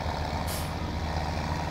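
A truck in Farming Simulator 17 sits idling at a train station silo with a steady engine rumble, a short hiss of its air brake, and reversing beeps sounding in the background.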